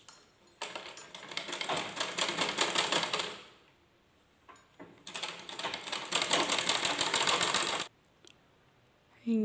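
A sewing machine runs in two long bursts, stitching tucks into folded fabric with a fast, even mechanical clatter, close and loud, separated by a short pause.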